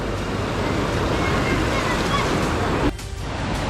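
River water rushing steadily across a river crossing near Kalu waterfall in the monsoon, a loud broadband roar close by, briefly dipping near the end before returning.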